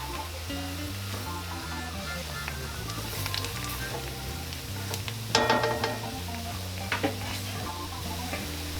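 Flour cooks in a pan for smothered chicken gizzards and onions, with a soft continuous sizzle, light stirring scrapes and a few clinks against the pan, close and fairly quiet.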